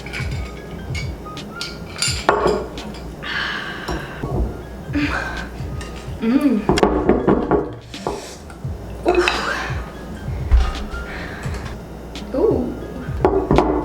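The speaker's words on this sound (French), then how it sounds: "Fouettez vigoureusement pendant 2 minutes." Batter being whisked hard in a bowl that is too small for a crunchie cake, with rapid clinking of the whisk against the bowl. The clinks come in bursts under occasional speech.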